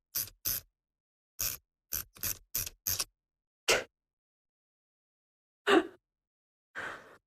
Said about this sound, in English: I'm going to pop some tape over the top.